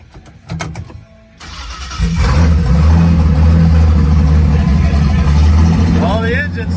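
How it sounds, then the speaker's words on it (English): A Datsun 280ZX engine cranks and catches after a short quiet moment, then settles into a loud, steady idle with slight revving, in a garage during a Jatco 3N71 transmission install; a voice speaks briefly near the end. "Well, the engine still starts"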